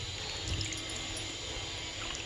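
Water is poured or sprinkled onto fenugreek plants, a steady close splashing wash that stays even throughout with no talk.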